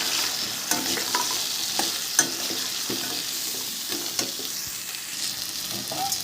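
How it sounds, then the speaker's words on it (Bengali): Spice masala frying in a pan with tomato, ground spices and fried lentil dumplings for a Bengali curry. A continuous close sizzle runs under scattered clicks of stirring, with no voices. "ভেজে রাখা বড়িটাও দিয়ে দেব এবার মশলাটা করতে থাকবো"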